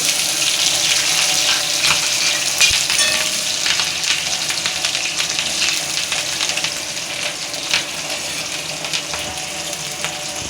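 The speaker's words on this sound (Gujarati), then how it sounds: "મરચાં પણ મસ્ત મજાના સાતળી ગયા છે" Green chili paste sautéing in a pan, a continuous dense sizzle and spatter with scattered crackles and stirring scrapes, close and fairly loud throughout.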